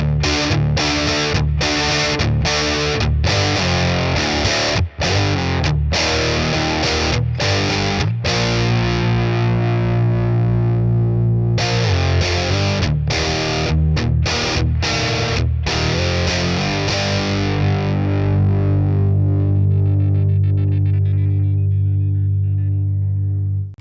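A Les Paul electric guitar played through a Boss Katana 100 Gen 3 amp with a distorted rock tone, loud chords struck in bursts with sharp stops, then long ringing sustained notes toward the end.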